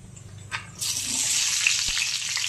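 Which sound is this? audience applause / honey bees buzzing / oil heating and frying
oil heating and frying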